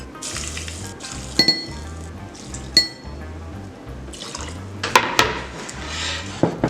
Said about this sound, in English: Now, to our cup, we're gonna add 6 ounces of overproof rum.